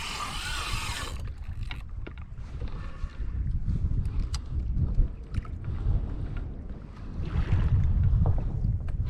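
Wind blowing across an open-ocean kayak off Hawaii during fishing, a steady rushing buffet against the microphone with water sloshing against the Hobie Revolution 13 hull, louder near the end.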